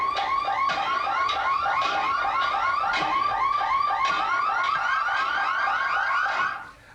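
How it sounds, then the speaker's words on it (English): A city-street car alarm cycling rapidly through warbling, chirping electronic tones, loud and continuous, cutting off at the end. "Basically, it's pile driver and alarms."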